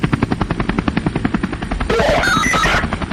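Police helicopters circle overhead in an audio drama, rotor blades thumping in a steady fast rhythm, loud and close, with a brief burst of harsher noise near the end.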